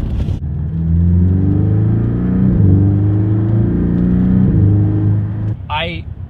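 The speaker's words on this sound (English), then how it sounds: "You can hear it working more and making these mechanical sounds that are very satisfying to hear." Porsche 718 Boxster S sports car engine, a steady low droning hum with a smooth rise in pitch and a short dip midway, heard from inside the cabin, ending with a brief higher-pitched squeal.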